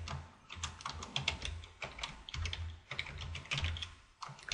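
Rapid keystrokes on a computer keyboard as a field name is typed into a QlikView script, a close, steady clatter of clicks in uneven bursts with no talking.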